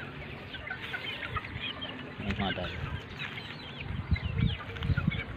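A flock of chickens clucks and murmurs close by in a busy farmyard din, with someone speaking briefly over them.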